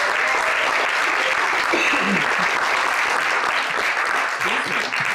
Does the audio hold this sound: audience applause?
yes